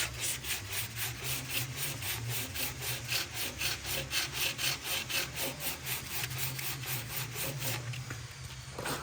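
Sandpaper rasps by hand over hard wood filler in a frame rebate in a steady, fast rhythm, close and continuous, with no talking.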